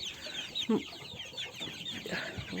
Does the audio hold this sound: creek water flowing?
no